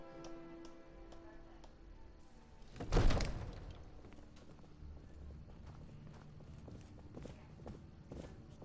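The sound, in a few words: footsteps in the video game Skyrim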